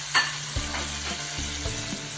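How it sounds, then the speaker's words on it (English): Chicken piccata sauce sizzles and crackles steadily in a pan, with a few soft stirring scrapes and clinks over the continuous fry. "the sauce is sizzling"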